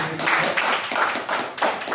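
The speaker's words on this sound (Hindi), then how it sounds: "तो सभी सर के एक बार जोरदार ताली आप।" A gathered audience claps for a man being honoured at a health talk, a short burst of close, uneven hand claps with a few sharp individual slaps standing out.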